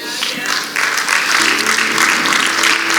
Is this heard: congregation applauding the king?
yes